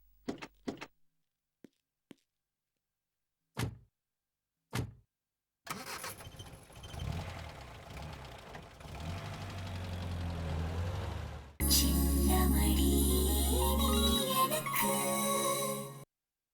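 A few sharp clicks and knocks come first, then a car engine turns over and settles into a steady idle, shifting to a louder, deeper rumble near the end, with no talking.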